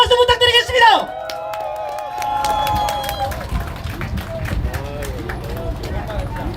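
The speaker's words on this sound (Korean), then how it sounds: "다시 한 번 더 우리 김영민 대표님께 응원의 박수 부탁드리겠습니다" Outdoor crowd at a street rally near Seoul Station breaks into scattered, rhythmic clapping after a voice over loudspeakers finishes, with talk continuing over the applause.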